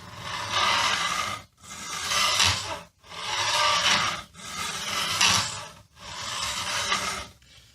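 Fret leveling on a neck-through Telecaster guitar, a file rasping over metal frets in five long, even strokes separated by brief pauses, close and loud with no voices.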